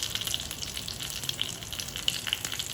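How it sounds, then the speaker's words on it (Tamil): Mustard seeds popping with curry leaves, broken dried red chili and asafoetida in hot oil for a chutney tempering: a steady, fairly loud hiss and crackle with scattered sharp pops, no voices. "கடுகு பொரிஞ்ச உடனே ஒரு கொத்து கருவேப்பிலை சேர்த்துக்கோங்க."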